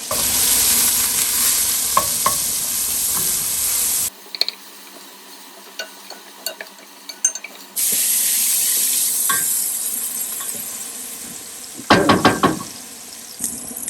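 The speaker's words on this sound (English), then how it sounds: "we will saute the onions until they are nice and golden brown" Onions sautéing in six tablespoons of olive oil in a pan, a steady loud sizzle with stirring scrapes and knocks, cutting out briefly mid-way before resuming.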